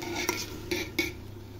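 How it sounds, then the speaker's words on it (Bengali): A utensil stirs rice being sautéed in a pot for chicken biryani, making three distinct metallic clinks and scrapes against the pot over a low, faint background hum. "এবার আমি চালটাকে ভালো করে কষিয়ে নেব"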